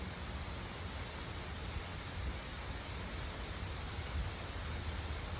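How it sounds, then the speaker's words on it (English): Constant rainfall heard from a front porch fills the air as a dense, even hiss with no voices or other distinct sounds. "watching it rain."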